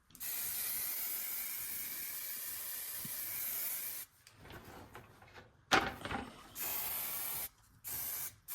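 A long hissing burst of spray paint, then several shorter sprays separated by pauses with faint handling clatter.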